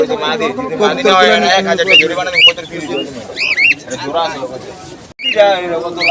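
Pigeons cooing at a busy weekly pigeon market in Fatullah, Narayanganj, their rolling coos close and repeated under loud nearby talk from traders and buyers.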